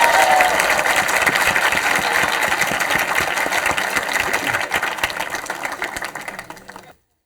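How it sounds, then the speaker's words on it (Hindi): A hall audience claps hard and continuously in the final round of a televised current-affairs quiz show. The rapid, dense clapping stays loud, then thins and fades away at the end. "तालियां जोरदार जोरदार जोरदार लगातार"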